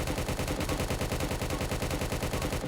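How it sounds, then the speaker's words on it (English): An AK-47 assault rifle in the Roblox game Prison Life fires in a continuous automatic stream, each shot a steady rhythmic crack. The loud, dense gunfire plays alone for the whole stretch. "So the AK-47 is quite slow in terms of fire rate as an assault rifle."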